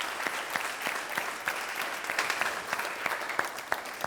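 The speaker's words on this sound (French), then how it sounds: "ça s'applaudit les amis." A studio audience on a French teen talk show applauds with a steady wash of clapping and distinct sharp individual claps, moderately loud throughout.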